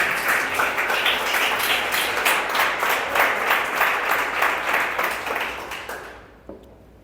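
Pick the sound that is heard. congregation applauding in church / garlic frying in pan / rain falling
congregation applauding in church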